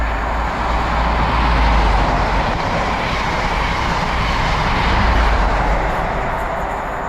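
A heavy rumbling roar of a train at a station in Edinburgh fills the air, loud and continuous, swelling and easing slightly without any voices.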